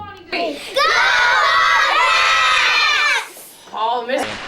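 Excited young fans cheer and shriek together before a hometown team's first game in front of a packed house, a loud sustained burst of high-pitched crowd shouting that fades out, followed by a shorter second swell.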